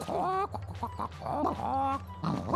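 A rooster crows and clucks in the Polish puzzle video game Reksio i Kretes: Tajemnica Trzeciego Wymiaru, a loud cartoonish series of warbling calls over a low steady game hum, with a voice briefly overlapping.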